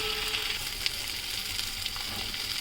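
Green peas sautéing with spices in a pan for a raw papaya ghanto, a steady close sizzle with a few faint scrapes, no voices.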